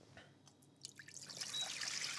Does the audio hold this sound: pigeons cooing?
no